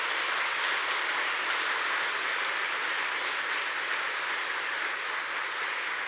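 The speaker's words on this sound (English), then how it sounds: "So I just want to give another round of applause to the workers here." Workers and guests applauding at the opening of a bus manufacturing facility, a steady, even wash of many hands clapping at constant loudness throughout.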